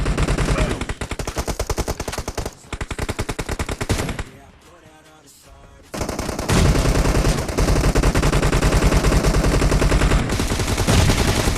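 Rapid automatic gunfire from the mobile battle royale game PUBG, played on a phone, loud and dense with bursts and shots layered over game audio, dropping briefly to a quiet lull before the firing resumes just as heavily.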